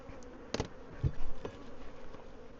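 Honeybees buzz around an agitated hive during a check of grafted queen cells, a faint, steady insect drone close by, broken by a couple of soft thumps.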